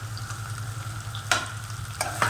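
Tomatoes tossed into a pan of sautéed capsicum and onion for a savoury vermicelli dish, a close continuous sizzle broken by a few quick spatula scrapes and stirring knocks.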